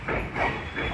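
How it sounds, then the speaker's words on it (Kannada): A train pulls in at platform 4 of Mysuru railway station, a steady broadband rumble and hiss of rolling coaches with faint rhythmic clatter, loud and close, with no voices. "ಹೌದು, ಕರೆಕ್ಟ್ 4ನೇ ಪ್ಲಾಟ್ಫಾರ್ಮ್ ಬಂದಿದೆ ನಮ್ಮ ಟ್ರೈನ್"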